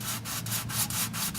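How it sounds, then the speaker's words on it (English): Rhythmic hand sanding of a car body, a gritty scraping rub repeated in quick back-and-forth strokes, close and steady with no talking. "I'm just gonna finish it with hand sanding this area over here"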